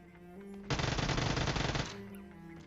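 A single sustained burst of rapid automatic gunfire in a video game, loud and dense, lasting just over a second and set against quieter game ambience before and after.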